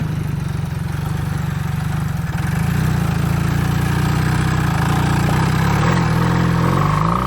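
A dirt bike engine runs off road close to the rider, droning steadily, then it grows louder and its pitch rises as the throttle opens.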